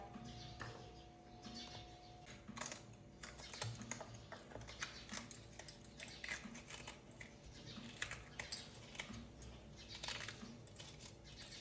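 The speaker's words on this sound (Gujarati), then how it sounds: "હવે આપણે મોરવાના છે 2 મરચાં" Knife chopping two green chillies on a board in a home kitchen, a steady run of quick, light taps and clicks at moderate level lasting throughout, with no talking.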